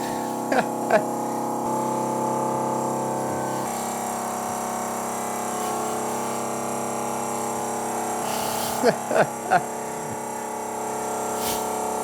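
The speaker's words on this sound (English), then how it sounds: "that compressor could turn off at any time now" An air compressor runs in a workshop, giving a steady, droning mechanical hum throughout. A few light knocks and clatters sound over it.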